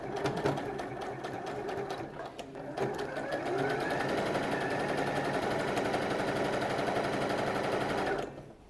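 A sewing machine stitches a dress seam in one long continuous run, loud and close, with a steady rapid mechanical rattle and a short slowdown near the start before it carries on to the end.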